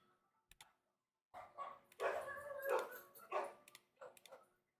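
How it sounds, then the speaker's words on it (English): Dogs bark in a series of short, close bursts, sounding alone with brief pauses between them. "there's dogs going off"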